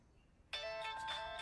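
A phone starts ringing abruptly after a moment of near silence, a bright electronic tone with steady repeating pulses that carries on to the end, close and fairly loud.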